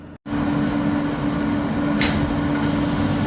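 An R160 New York City subway train running on the M line, a loud, steady rumble with a constant low hum, following a split-second dropout at the start.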